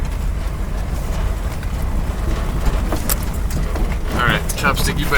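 Old 1958 Edsel Ranger sedan driving along, a steady low engine and road rumble running throughout with a few light rattles and clicks, and a voice heard over it.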